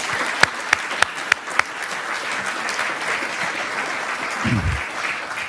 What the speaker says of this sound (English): a huge, huge round of applause for everyone involved